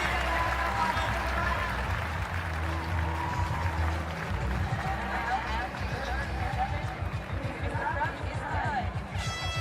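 Arena crowd at the 2023 CrossFit Games applauding and cheering through a men's final heat, steady loud clapping and hubbub throughout with a commentator talking over it.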